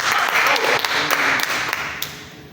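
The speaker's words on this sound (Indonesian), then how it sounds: "Kita berikan tepuk tangan." A church congregation breaks into applause during a sermon, a full crowd of clapping with a few sharper individual claps standing out, tapering off over a couple of seconds.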